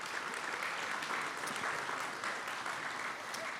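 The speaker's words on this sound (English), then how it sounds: "let's get a round of applause, please." Audience applause at a forest and fire conference plenary in Sonoma County, a steady wash of clapping from a crowd that stays even and fairly faint throughout with no voices over it.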